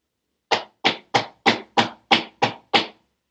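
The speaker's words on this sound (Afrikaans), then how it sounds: "As ons voete teen die grond stamp, kan dit ook 'n geluid maak." Feet stamp on the ground eight times in an even, quick rhythm, each stamp a sharp, close thud followed by brief silence.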